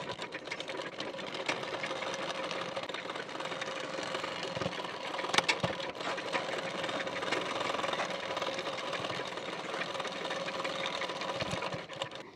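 A sewing machine runs steadily while stitching a fitting seam along a marked line on the sides of a blouse, a continuous close whirring hum with a few clicks and no talking.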